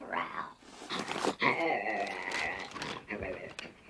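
A voice imitates a monster with a rough, guttural growl that rises and falls for several seconds, mixed with talking.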